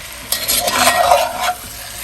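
Kielbasa hash with potatoes is stirred in a frying pan, producing a soft sizzle with scraping and shuffling of the food as the spoon moves through it, close and fairly loud.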